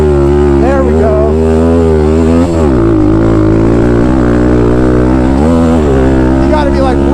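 A Thumpstar TSX140 pit bike engine screams near redline while pushing through deep sand on a track, a loud, close, strained buzz with a brief dip in revs before climbing back to a sustained high whine.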